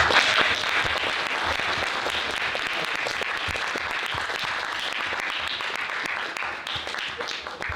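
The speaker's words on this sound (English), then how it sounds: "let's give a big round of applause for our guests." Audience applause for guests at a community panel discussion, a steady dense roar of clapping that holds for several seconds and thins slightly toward the end.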